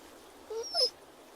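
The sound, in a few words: dog whimpering in The Walking Dead video game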